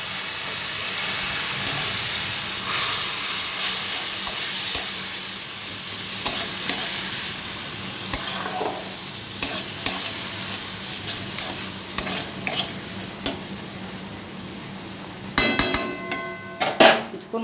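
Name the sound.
sautéing spice paste in a pan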